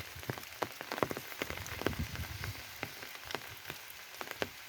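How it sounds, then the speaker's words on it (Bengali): Rain falls on village rice fields and a pond on a rainy day, a steady soft patter with scattered sharper drops hitting nearby surfaces, fairly quiet and continuous with no talking. "বৃষ্টি"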